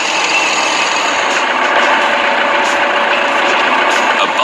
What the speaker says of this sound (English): A bulldozer is a tracked tractor used to push large quantities of soil, sand, or rubble during construction